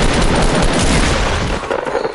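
Loud sustained burst of rapid video game gunfire, continuous automatic shots filling the whole moment with no talk over it.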